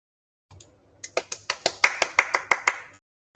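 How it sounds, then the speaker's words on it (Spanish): A small handful of people at a rural-themed defense presentation clap about ten times in a quick, fairly even rhythm, close and crisp, after a brief faint murmur. "un aplauso"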